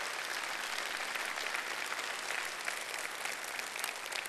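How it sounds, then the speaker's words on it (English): A church congregation claps in a steady, dense wash of applause filling the room, continuous throughout with no voices over it. "You'll clap for that"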